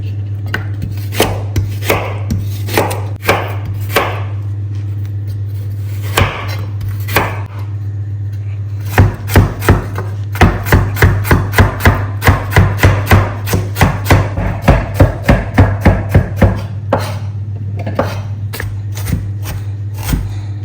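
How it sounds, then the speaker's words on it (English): Knife chopping vegetables on a cutting board, close up: scattered single cuts, then a long run of quick, steady chops over a low hum, no talking. "we will go ahead and cut our vegetables"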